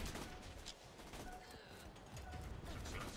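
Gunfire in Borderlands 2, rapid bursts of shots and mechanical clatter in a dense, continuous firefight, heard faintly at low overall volume.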